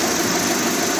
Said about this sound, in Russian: этот звук происходит от вибрации ремня ГРМ в воздухе